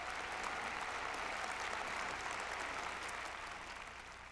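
Sustained applause from an audience at a 2022 YSP general assembly, a dense, steady wash of clapping that stays loud through most of the stretch, then eases off slightly near the end.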